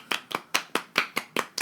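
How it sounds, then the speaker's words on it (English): Eight sharp, evenly spaced claps in a quick steady rhythm, close and clear with no talk over them, forming a short round of applause. "I think Luke Cage should get a round of applause"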